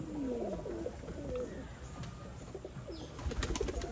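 Old-breed Khulna pigeons coo softly in low, rolling calls, with a few light chirps and scuffles near the end.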